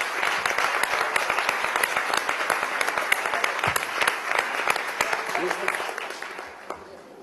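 An audience at a Venezuelan government press conference for Women's Month applauds in a dense, sustained burst of many hands that fades toward the end.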